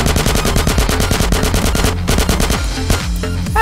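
Automatic AK rifle fire in a GTA San Andreas DYOM mission shootout, loud sustained bursts of rapid video-game gunshots rattling continuously with no talking.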